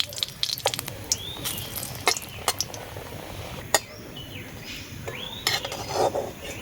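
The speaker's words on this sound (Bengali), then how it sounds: "প্রথমে শুকনো লঙ্কাটা একটু ভেজে নিচ্ছি" Dried red chilies frying in a little oil in a wok, with a low steady sizzle under repeated metallic clinks and scrapes of a spatula stirring, close and fairly quiet.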